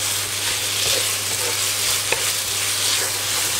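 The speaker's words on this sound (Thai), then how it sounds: "ผัดให้มันซึมเข้าไปในเนื้อวุ้นเส้นด้วยนะครับจะได้รสชาติจะได้ทั่วถึง" Glass noodles and minced pork are stir-fried in a pan with holy basil to come, a steady loud sizzle with soft scraping strokes of the spatula and no voices.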